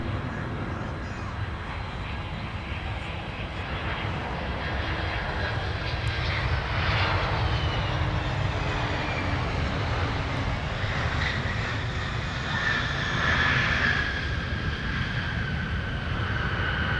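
A fixed-wing airliner takes off from a runway at Minneapolis–Saint Paul airport, its engine roar steady and broad throughout, swelling slightly as the jet accelerates, with no voices over it.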